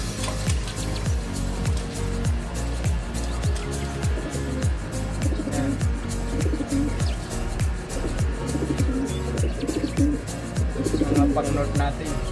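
Pigeons in a breeder's loft coo in a steady, rhythmic pattern of low repeated calls close by, with several birds overlapping continuously alongside faint chirps.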